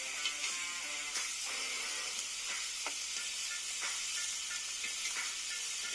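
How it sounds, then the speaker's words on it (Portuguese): Bacon sizzles on a grill during a burger cook, a close, steady hissing fry with scattered pops and crackles, with no talk. "A gente vai virar bacon."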